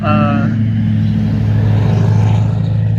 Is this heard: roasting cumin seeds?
no